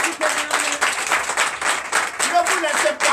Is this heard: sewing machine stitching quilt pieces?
no